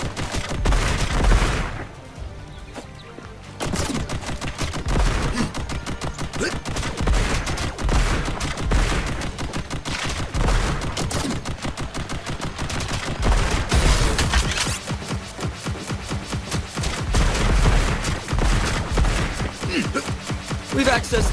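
Rapid gunfire and explosions from the video game Contra Operation Galuga rattle continuously over game music, with dense bursts of shots and heavy impacts throughout.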